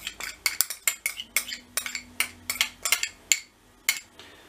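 A metal spoon repeatedly taps and scrapes against a pizza tray while spreading sauce over dough, giving a series of sharp, irregular clinks close by with short gaps between them.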